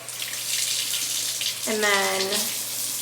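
A cup being rinsed under a running kitchen tap, water splashing steadily for under a second with a brief rising tone as the cup fills, set against a constant low hum and faint background noise.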